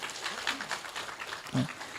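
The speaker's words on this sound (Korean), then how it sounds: "박수 좀 해주세요" A church congregation at a revival meeting in Ulsan gives soft, scattered applause for the NCMN Busan-Ulsan regional branch leader, with talk heard over the clapping.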